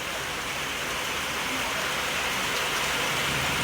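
Heavy rain pours steadily and loudly, a dense continuous hiss of downpour without pause.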